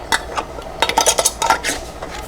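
Metal canning jar lid and screw ring handled close by for a jar of potato soup, a quick cluster of bright clinks and scrapes in short bursts.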